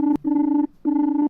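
Indoor telephone ringing in a household comedy scene: two loud, steady electronic ring bursts close by, separated by a short gap, with no talking.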